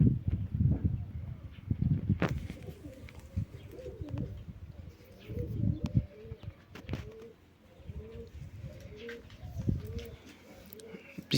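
Pigeons coo repeatedly near a coop during a training flight session for young birds, low rolling calls coming in bursts with a few chirps, fairly close, alongside faint background voices.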